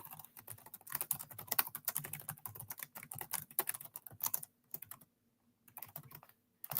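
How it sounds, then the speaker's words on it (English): Someone types steadily on a computer keyboard, producing dense, quiet key clicks in bursts with a few short pauses near the end. "I'll type up the movie"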